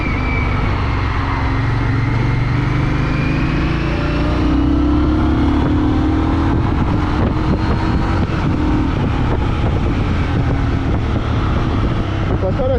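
An Indian Scout motorcycle engine drones steadily while riding, a loud continuous low rumble mixed with heavy wind buffeting, with a slight rise in engine pitch partway through.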